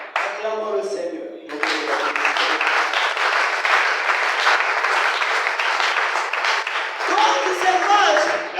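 A church congregation breaks into loud, sustained applause and clapping after a short spoken line, the dense clapping filling the room for several seconds with some voices mixed in.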